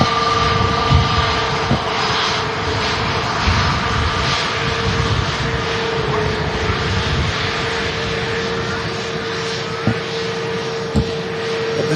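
An Airbus A320neo jet arriving at Manchester Airport from Barcelona produces a steady, broad engine roar that stays fairly constant and moderately loud throughout, with no talking.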